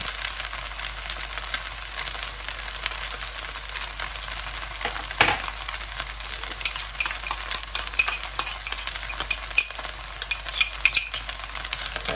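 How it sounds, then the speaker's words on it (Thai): Fresh wide rice noodles stir-frying in a hot pan for pad see ew, a continuous soft sizzle with scattered scraping and tossing clicks from the spatula, steady and close throughout. "เส้นใหญ่ถ้าเราผัดกับเส้นใหญ่สดสดแบบนี้มันก็จะ สุกง่ายค่ะ"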